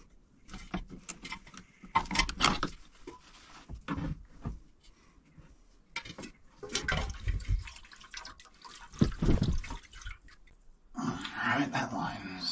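A drained fuel line on an old boat drips and trickles into a container in a cramped aft cabin, irregular close splashes and clatter, with someone talking quietly over parts of it.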